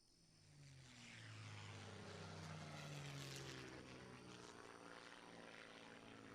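In the Shadow of the Tomb Raider video game, set over the Amazon in Peru, an airplane engine drones steadily just before a crash, a loud, sustained propeller roar rising slightly and holding throughout.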